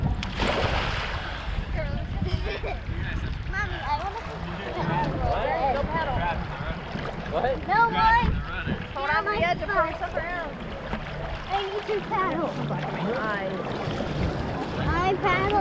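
A pedal-powered paddle boat churns through the water of Simpson Bay, St Maarten, its steady splashing and wind noise running throughout beneath the nearby chatter of children and adults.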